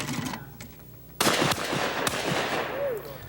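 Gunfire from a shooting show at an outdoor fair, with a loud shot cracking out suddenly and then ringing, followed by a further sharp report and a few fainter pops.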